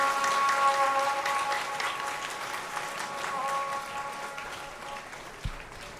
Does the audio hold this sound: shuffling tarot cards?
no